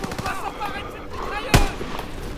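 Gunfire sounds in a World War-style shooter game, with one sharp close shot standing out over a busy game soundscape while someone talks throughout.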